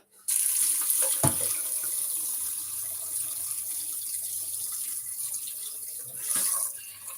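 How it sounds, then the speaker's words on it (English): Water pours steadily from a tap into a cooking pot for homemade baby food, a continuous bright splashing rush that swells briefly near the end before easing off. "So let me add water."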